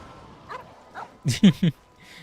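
A dog in the video game Genshin Impact gives a few soft yips, then three louder barks in quick succession, close and clear.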